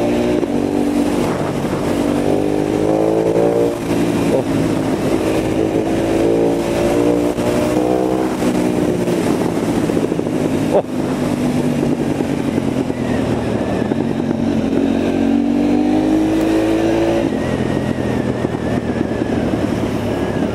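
A KTM Duke 990 motorcycle engine revs and accelerates loudly and continuously up close, its rising and falling pitch sweeping through gear changes over a steady roar.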